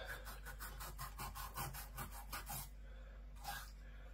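A sharp knife rasps through the sandpaper-rough skin of a dogfish, a series of about a dozen quick, close scraping strokes in steady rhythm for two and a half seconds, then a pause and one last scrape.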